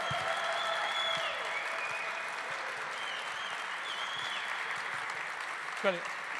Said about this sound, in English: let's really have a nice round of applause and a lot of yelling and screaming for what we're trying to achieve tonight